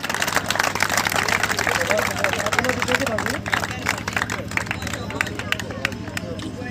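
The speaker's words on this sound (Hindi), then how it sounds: "जोरदार तालियां" Crowd applause for finishers of an Independence Day mini marathon, dense steady clapping from many people outdoors, gradually thinning toward the end, with a voice talking over it and general crowd murmur.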